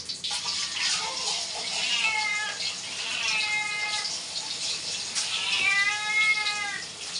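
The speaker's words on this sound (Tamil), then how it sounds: "பூனை பாருங்க, பூனை கட்டுதா," A cat meows repeatedly, drawn-out and plaintive, several calls close by over a constant hiss like running water.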